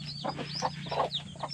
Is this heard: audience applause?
no